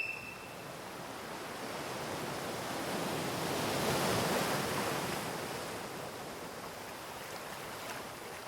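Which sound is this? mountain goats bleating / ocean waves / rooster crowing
ocean waves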